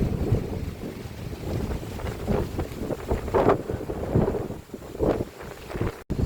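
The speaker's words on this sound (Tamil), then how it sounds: "காற்றை பாருங்க எப்படி காற்று அடிக்குது" Strong wind gusting and roaring against the microphone in Jaffna during flooding, rising and falling in heavy rushes with no voices.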